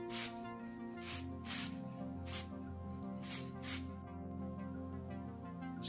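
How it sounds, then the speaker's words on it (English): An aerosol can sprays automotive clear lacquer over a model railway wagon in about six short hissing bursts. The bursts are close and evenly spaced, with a low steady hum underneath. "I use a automotive clear lacquer, or any gloss varnish will do as well."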